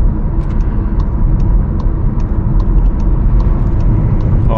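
Volkswagen Nivus cruising in sport mode in fifth gear, a steady close engine drone and road rumble inside the cabin, with faint rhythmic ticking over it and no gear change or talk.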